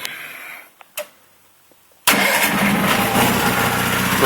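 A 1983 John Deere 318 garden tractor engine cranks and catches after a few quiet clicks, then settles into a loud, steady running rumble close by.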